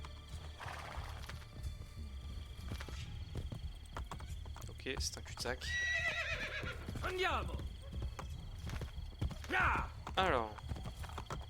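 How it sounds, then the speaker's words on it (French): A horse whinnies a few times amid clopping hooves and a low ambient hum in the game Assassin's Creed Brotherhood, while someone speaks quietly. "Petit cheval."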